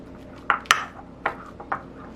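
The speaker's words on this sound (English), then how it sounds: "I'm mixing in enough sour cream into the farmer's cheese to make the farmer's cheese more spreadable." A spoon knocks against a bowl while sour cream is mixed into farmer's cheese, giving four sharp, bright clinks spaced unevenly over a quiet background.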